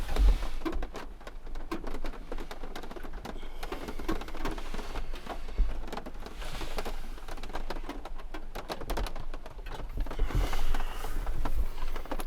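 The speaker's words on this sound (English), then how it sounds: "Very heavy rain." Steady heavy rain hisses and patters across surfaces on a mountain, with occasional louder drops and thumps, continuous and fairly distant-sounding.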